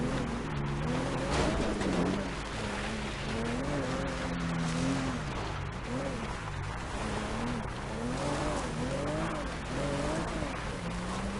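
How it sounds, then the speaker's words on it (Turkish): A video game car's engine drones steadily as it climbs a steep slope, its pitch rising and falling over a dense wash of game sound, with a voice talking over it throughout. "Yokuşu kedi gibi tırmanıyor gördüğünüz gibi araç."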